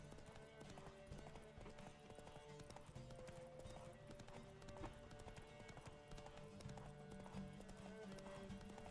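Steady, continuous clip-clop of a horse galloping in The Witcher 3, a rapid hoofbeat rhythm layered over in-game music and ambient background, with a brief snort or whinny in places.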